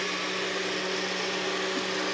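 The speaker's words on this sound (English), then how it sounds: "now we're gonna mix all our ingredients in the blender" A kitchen blender runs steadily while mixing ingredients for a Jamaican dish, giving a constant, loud motor whir with an even, unbroken roar and no talking.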